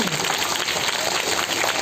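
Applause for teachers and children at a school Independence Day program, a dense, steady patter of many hands clapping throughout, fairly loud and unbroken.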